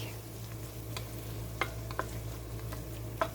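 Two teaspoons of garlic sizzling in a pot as the base of a chicken pot pie soup, a steady close hiss broken by a few light stirring clinks.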